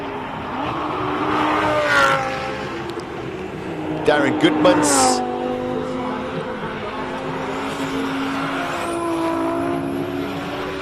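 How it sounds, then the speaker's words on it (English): A turbocharged, heavily modified race car at the Simola hill climb roars past with rising and falling engine pitch and a sharp burst midway, while a commentator talks over it. "you can just hear everything happening with the turbo there"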